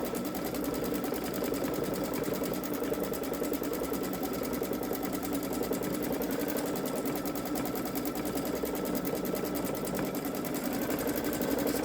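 A Babylock Solaris Vision sewing machine runs steadily through an edge-to-edge quilt stitch-out, a rapid, even mechanical whir with a fine repetitive needle rhythm, close and continuous for the whole stretch with no talking.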